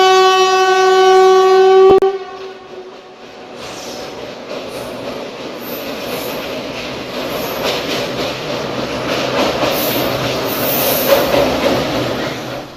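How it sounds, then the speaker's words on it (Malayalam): A Kochuveli–Lokmanya Tilak Express train crosses an old railway bridge on stone piers over a river, opening with a loud, steady horn blast, then a continuous rumbling roll of wagons with faint wheel squeal, with no voices. "കൊച്ചുവേളി ലോകമാന്യ തിലക് എക്സ്പ്രസ് ട്രെയിനായിരുന്നു അവസാനമായി കടന്നുപോയത്."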